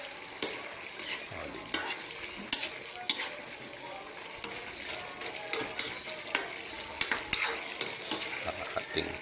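Pinakbet vegetable stew being stirred in a pot, with repeated scraping and clattering strokes of a utensil against the metal over a soft steady sizzle, close and fairly loud throughout.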